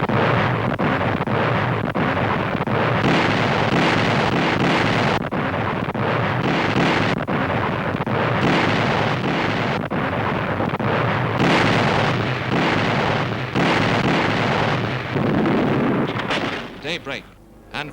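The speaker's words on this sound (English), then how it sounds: "In the darkness before dawn, the Navy's big guns open fire." Navy big guns open fire before dawn in a WWII attack on Rendova near New Georgia Island, heard as a loud, dense, continuous rumble of heavy blasts with wind-like noise throughout, fading near the end.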